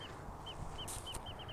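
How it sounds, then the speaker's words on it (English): A wrentit sings outdoors on a hillside near Santee, California: a series of short, high, evenly spaced notes that speed up toward the end, faint and distant over a soft background hiss. "That's a pretty happy wren-tit bird."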